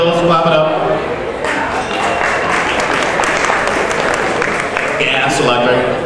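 Steady audience applause at a comedy show fills the whole stretch, dense and even without letting up, with some crowd noise mixed in.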